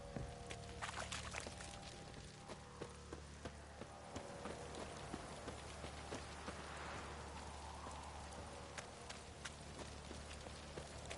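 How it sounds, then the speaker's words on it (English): Steady rain in The Witcher 3: Wild Hunt hisses throughout at a low, even level, with scattered drip-like ticks and faint background hum; no voices. "This downpour's a bastard, it is."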